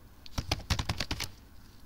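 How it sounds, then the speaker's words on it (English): Fingers tap out a quick burst of typing on a computer keyboard, a dozen or so close, crisp clicks in an uneven rhythm, then a pause and one last keystroke. "So I'm typing the details"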